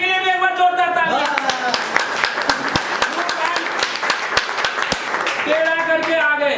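Loud applause and rhythmic clapping from a team leaders' meeting crowd, a burst of claps bracketed by a speaking voice before and after, with individual sharp hand claps audible in the middle.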